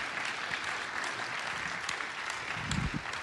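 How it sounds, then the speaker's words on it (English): An audience at a fellowship gathering claps in a steady wash of applause, dense and even from start to finish, with no voices standing out. "give Randy a round of applause"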